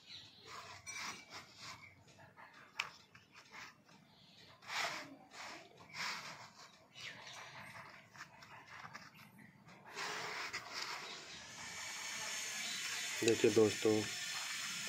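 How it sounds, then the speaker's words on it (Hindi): Soil mixed with cocopeat pours into a slightly broken plant pot as a soft, gritty rustling hiss near the end, after quiet speech earlier. "कुछ इस तरह हमने ये मिट्टी डाली।"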